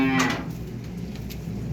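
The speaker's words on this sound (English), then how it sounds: "We have all the cows in the barn here now." Cows mooing inside a barn on a hay-feeding farm, one loud close moo at the start trailing off into fainter lowing and barn murmur.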